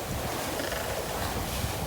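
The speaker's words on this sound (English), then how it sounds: "Massive waves." Big Pacific Ocean waves surge around a sailboat at sea, a continuous rushing wash of water mixed with wind buffeting, fairly quiet and unbroken with no voices.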